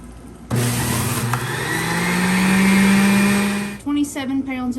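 Juicer running on cooked-down tomatoes, a loud steady motor whine that rises in pitch as it works, then cuts off, followed by someone talking.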